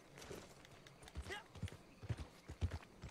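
Horse hooves clip-clopping in the video game Red Dead Online, a handful of irregular thuds stepping close by, with someone talking over them and a brief whinny-like sound in the middle.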